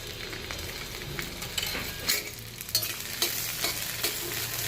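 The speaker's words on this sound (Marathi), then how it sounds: "मी याच्यामध्ये थोडंसं तेल घालते, तेल मीठ हळद घालून मका पुन्हा एकदा छान भाजून घेते" Corn kernels roasting with oil, salt and turmeric in a pan, sizzling while a utensil stirs and scrapes in irregular strokes, close up, with no talking.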